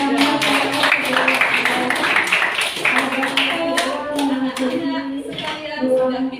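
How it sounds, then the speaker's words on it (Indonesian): A group claps together in a steady patter while children's voices carry on underneath, in a school classroom. "Tepuk tangan."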